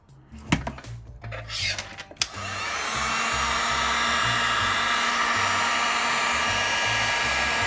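A heat gun or hair dryer blows steadily and loudly to soften the adhesive on a shattered iPhone 8 Plus screen, preceded by a couple of seconds of clicks and handling knocks.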